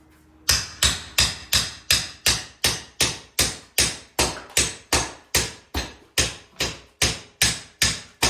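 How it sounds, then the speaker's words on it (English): A claw hammer strikes a nail in a fast, even series of about twenty sharp, loud blows, each ringing briefly before the next hit. "just hit down with your hammer."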